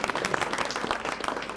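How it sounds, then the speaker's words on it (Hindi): Audience at a Ramleela event in Udhampur claps steadily in a dense wash of applause that lasts the whole brief moment. "जोरदार तालियां अरविंद खजूरिया जी के लिए भी"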